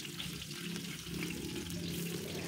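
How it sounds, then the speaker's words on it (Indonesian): Sliced shallots fry in about seven tablespoons of hot oil, giving a steady, close, dense sizzle that runs unbroken without talk. "Panaskan 7 sendok makan minyak, masukkan 5 siung bawang merah iris."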